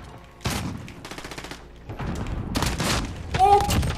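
Rapid bursts of gunfire and booming explosions in the video game Modern Warfare, loud and close, with fast rattling volleys separated by short gaps and a voice talking briefly over the action.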